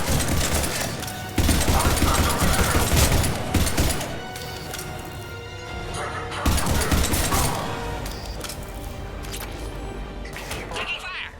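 Gunfire rattles through a firefight in Mass Effect 3, with loud bursts and dense volleys swelling in two waves and mechanical clatter and thuds between them, and a voice briefly calling out.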